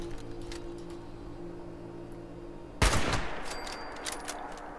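A loud burst of gunfire from the Fallout 76 video game erupts suddenly after a quieter ambient stretch, followed by scattered shots and echoes.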